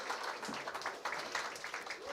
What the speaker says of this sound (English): Please give him a round of applause while he gets set up